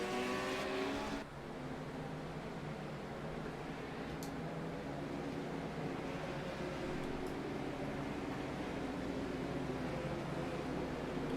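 Legends race cars at Martinsville under caution after a car spun off the curbing, heard as a steady, distant engine drone with a brief louder rev at the start, continuing evenly throughout.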